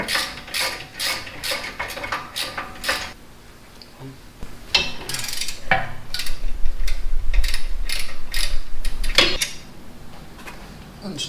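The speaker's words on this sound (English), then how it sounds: "I'm gonna go ahead and loosen the bolts in the back of the caliper." A ratchet loosens the rear brake caliper bolts during a rear rotor install, giving close, repeated bursts of clicking strokes with pauses and some clunking in between.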